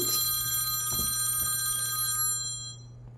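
A camera rings like a telephone during a macro photography talk: a steady electronic ringtone with many sustained tones, loud and continuous, then fading out over the last second with no talk.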